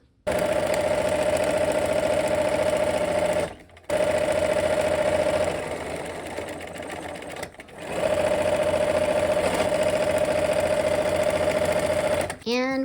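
Sewing machine stitching quilt block seams, a loud steady mechanical hum and whir running in long stretches with two brief stops between them.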